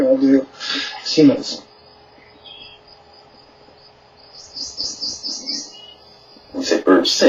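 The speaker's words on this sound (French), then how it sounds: "en ce qui concerne les troglodytes, on ignore la signification de ces chants pour eux" Small birds (wrens) singing outdoors, several high, rapid chirping phrases and trills, moderately near, with a faint steady insect or cricket drone underneath and people talking at the start and end.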